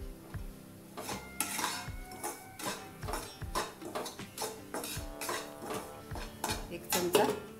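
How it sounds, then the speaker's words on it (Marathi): Semolina being roasted and stirred in a metal pan with almonds, a spoon scraping and clinking against the pan in steady repeated strokes, close and fairly loud with no voices. "रवा भाजत असतानाच हे 6 ते 7 बदाम टाकूया।"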